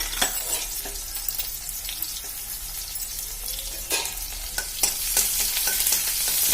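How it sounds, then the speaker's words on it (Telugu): Chopped onion pieces fry in a tempering of mustard seeds, urad dal and curry leaves in a pan, a close continuous sizzle broken by sharp spatula scrapes and stirring clinks. "ఉల్లిపాయ ముక్కలు కూడా కొంచెం వేగాలి"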